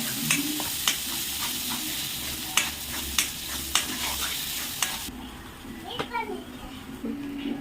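Gravy for an eggplant curry roasts in oil in a pan, a continuous loud sizzle broken by sharp spoon scrapes and taps. The frying quiets partway through, and a voice can be heard in the background.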